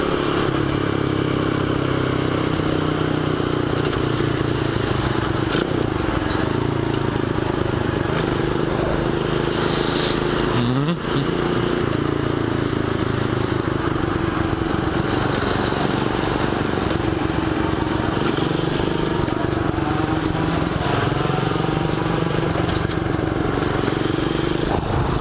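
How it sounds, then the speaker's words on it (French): A Honda Dax 125cc motorcycle with a baffled exhaust fitted to keep it quiet idles steadily close by, a continuous low engine rumble with light mechanical clatter and a brief revving blip partway through. "on a mis la chicane pour pas faire trop de bruit"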